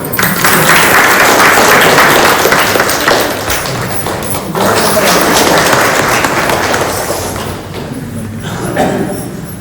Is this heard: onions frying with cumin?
no